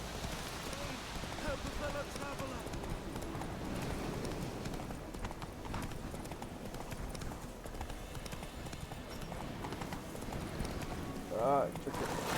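A horse gallops in The Witcher 3 video game, its hooves beating a quick, continuous clip-clop rhythm throughout, with a voice talking over it.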